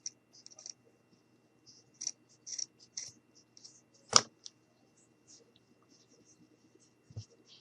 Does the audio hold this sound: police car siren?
no